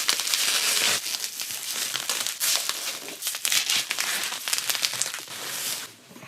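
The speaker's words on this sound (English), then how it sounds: "I'll get this one unwrapped." Plastic and foam packaging crinkles and crackles loudly as a guitar amplifier is unwrapped, in continuous close rustling bursts with brief pauses.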